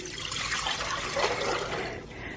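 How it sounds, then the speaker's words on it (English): Water is poured into a pan to make hummingbird feeder food, a steady broadband splash and trickle lasting a couple of seconds at moderate, even loudness with no talking. "all you need to do is to put your water into your pan"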